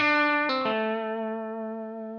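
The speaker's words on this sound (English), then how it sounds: "I just played a couple notes from the scale, but you can hear that that has a real blues feeling" A blues lick on an effects-laden electric guitar slides up the second string. A couple of bright sustained notes are joined by a quick slide, then a held tone rings out and slowly fades.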